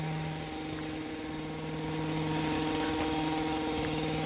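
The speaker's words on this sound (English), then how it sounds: "I have to project over the chainsaw." A nearby chainsaw drones steadily with a buzzing engine tone that swells louder partway through, running alone without speech.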